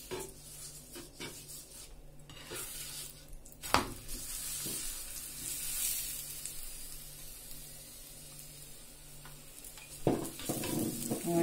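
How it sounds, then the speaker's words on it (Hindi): A stuffed potato and fenugreek paratha fries in oil on a griddle while being pressed down, giving a soft steady sizzle broken by spatula scrapes and a few clinks of cookware, with no talk. "इसको करारा होने तक हम दबा दबा के सेक लेंगे।"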